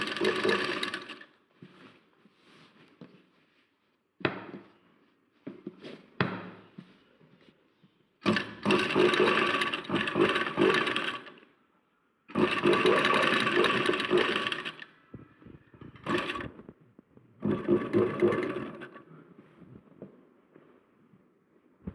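Sewing machine stitching a women's raglan sleeve top, running in repeated bursts of loud, steady whirring separated by pauses and short stops, close and without talk.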